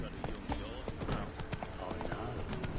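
Roach the horse trots in The Witcher 3: Wild Hunt, a quick, irregular run of hoof clip-clops layered over game background sound and a voice talking.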